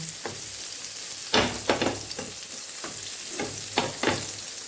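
Garlicky eggplant fries in oil on a tava, a steady close sizzle broken by several louder bursts of spatula scraping and stirring.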